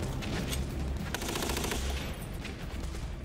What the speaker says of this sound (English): Machine guns on both sides routinely fire tracer rounds every third shot.